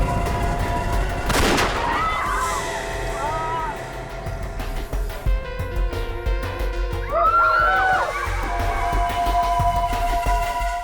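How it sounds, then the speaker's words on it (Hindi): Gunfire in a CID TV crime drama scene, a sharp loud shot followed by dramatic background music with tonal swells and further percussive bursts, amid tense voices. "शुक्र है अभी पैर पे गोली मारी है, छाती पे नहीं"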